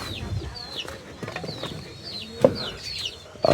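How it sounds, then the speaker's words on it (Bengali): Backyard chickens kept at home clucking and chirping nearby, several short calls scattered through, with a couple of louder knocks or wing flaps. "এই আম্মু কিছু মুরগি পালে।"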